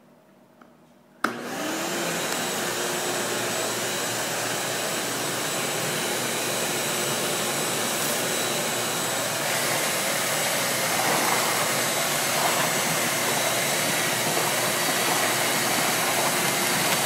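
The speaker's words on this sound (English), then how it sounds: "Notice how all the excess smoke or dust that should be flying out of the bucket is getting sucked up into the hose." A vacuum switches on abruptly after a moment of quiet, then runs as a loud, steady whine and rush of suction, its hose drawing up concrete dust from a mixing bucket without letup.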